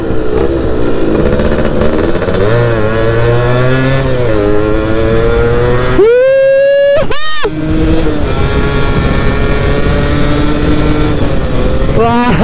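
A car engine revs hard at high RPM while driving, a loud continuous drone with rising and falling pitch sweeps, including a sharp climb around the middle, under speech.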